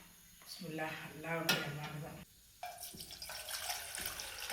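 Hot water pours and splashes into a container with rising gurgling tones while making natural food colouring, followed by a faint clatter and a voice speaking briefly in Tamil.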